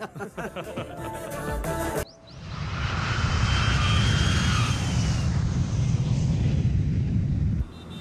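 An airplane comes in to land in a movie scene, its engine roar swelling loud and steady after a sharp cut and filling the background until it drops away near the end.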